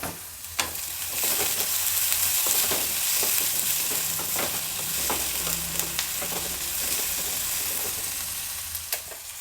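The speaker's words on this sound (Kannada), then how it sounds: "ಈರುಳ್ಳಿ ಫ್ರೈ ಆಗಬೇಕಾದ್ರೆ ಒಂದು ಪಿಂಚಷ್ಟು ಉಪ್ಪು ಹಾಕ್ತೀನಿ ಈರುಳ್ಳಿ ಚೆನ್ನಾಗಿ ಫ್ರೈ ಆಗುತ್ತೆ" Sliced onion frying in hot oil with a pinch of salt for a Kerala-style moru curry, a steady close sizzle with intermittent scraping and stirring clicks from a spoon against the pan, no voices.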